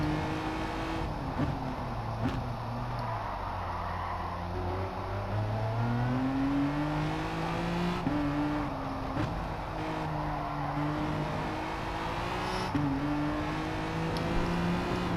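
Race car engine in a racing video game droning steadily as the car drives into the pits and back out on hard tyres, pitch rising and falling through gear changes, close and continuous with no talk.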